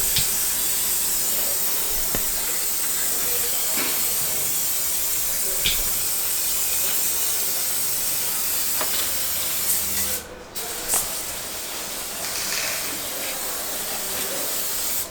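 A Peugeot 206 1.4 HDi engine is blasted clean with a pressurized steam jet, producing a loud, continuous hiss with faint scattered clicks and a short dip in the spray partway through.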